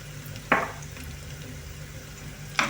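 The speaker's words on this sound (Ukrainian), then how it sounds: "Перемішуємо і тушимо 2 хвилини, так, щоб волога випарувалася." Garlic, quartered olives and rosemary stew in a pan over low heat, a soft steady sizzle broken by two brief, louder scraping stirs.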